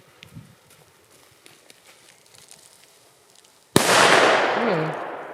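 After quiet rustling, a single sharp bang from a small firework bursts out, followed by a fizzing crackle that slowly fades.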